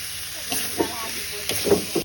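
Eel pieces stir-fried in a hot pan outdoors by rice fields, giving a steady sizzle with a few sharper stirring scrapes and clatters, while a person talks over the cooking.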